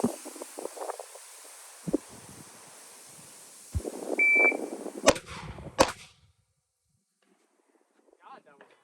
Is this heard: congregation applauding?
no